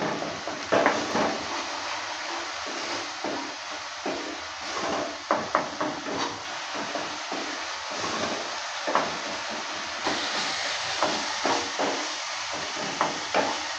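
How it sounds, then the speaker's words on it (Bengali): Spice masala for a brinjal curry is stir-fried in a pan, with steady scraping and clattering from the stirring over a constant loud sizzling hiss. "মশলাটাকে আমি কিছুক্ষণ সময় নিয়ে ভালো করে কষিয়ে নেব।"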